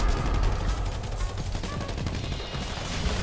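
Continuous gunfire during a GTA 5 team deathmatch, a dense, steady barrage of many overlapping shots, loud and sustained throughout with no pauses or talking.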